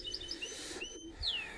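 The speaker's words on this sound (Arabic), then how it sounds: "فحبيت اشوفكم اياه هذا الطائر" A pet bird chirps in a series of short, bright tweets and a rising call, fairly close and clear, with no talking over it.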